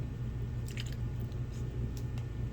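A Vision Air paint feeder bottle being squeezed while painting a Harley, soft wet squishing and faint sputtering clicks over a steady low hum, close and quiet.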